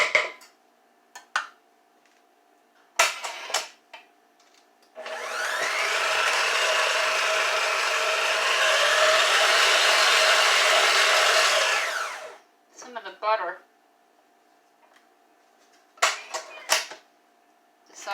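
An electric mixer whirs steadily for about seven seconds, beating a butter mixture for beer-marinated brisket, with clinks and knocks of utensils and a bowl before and after.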